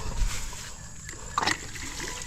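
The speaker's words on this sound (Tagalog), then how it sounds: "pero dadagdagan ko yung tubig niyan." Water trickles and splashes as more is poured in while building a fence, a soft, close liquid dribble with a brighter splash burst partway through.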